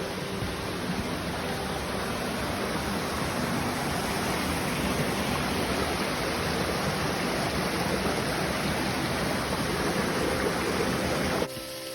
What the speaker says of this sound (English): This is Little Rainbow Falls.